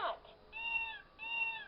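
An electronic toy cat on a 1990s VTech Little Smart Talk and Lights radio gives two clear, bright synthesized meows, one after the other, close and alone.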